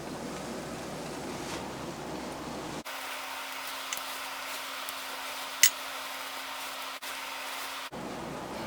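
Bread toasts in a pan for a grilled cheese sandwich, a steady sizzling hiss that runs throughout, with a sudden shift in tone partway and a small crackle pop.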